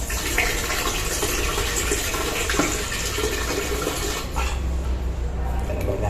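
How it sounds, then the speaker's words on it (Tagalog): A lavatory faucet runs with a strong water flow, a loud steady rushing and splashing that fills the clip, easing slightly toward the end, with no talking over it. "Ang lakas ng tubig oh."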